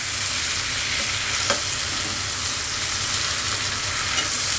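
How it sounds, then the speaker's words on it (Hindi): Tomatoes and garlic paste fry in a pan for a dhaba-style matar paneer makhana dish, a steady loud sizzle with stirring scrapes throughout and no talk. "टमाटर भी भून गए, इसमें डाल देंगे लहसुन का पेस्ट"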